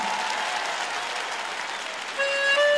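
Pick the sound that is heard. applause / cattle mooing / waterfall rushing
applause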